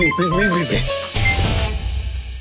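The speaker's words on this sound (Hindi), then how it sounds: "अरे एक मिनट, एंकी का फोन है" A phone ringtone chimes in a short melodic burst at close range, then gives way to a voice speaking over background sound.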